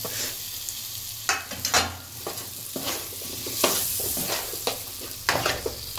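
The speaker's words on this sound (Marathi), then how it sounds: "बटाटा पण थोडासा आपल्याला फ्राय करून घ्यायचा आहे याच्यामध्ये।" Potatoes fry in a hot pan while being stirred, a steady close sizzle broken by several scraping stir strokes, with no voices.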